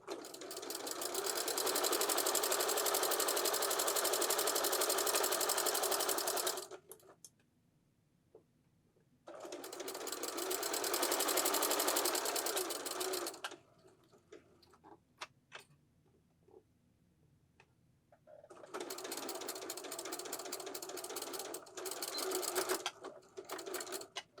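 A sewing machine stitches the side seam of a skirt in three rapid, steady bursts. Each run lasts several seconds and is separated by quiet pauses with faint handling noises.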